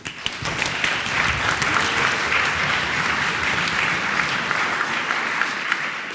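Steady, dense applause from a conference audience greeting a lightning talk speaker at a Python gathering, a loud, even wash of clapping sustained throughout.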